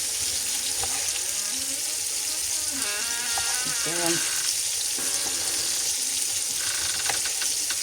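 Silver carp fries in a pan with a loud, steady close sizzle and crackle, while faint background voices or tones drift under it in the middle.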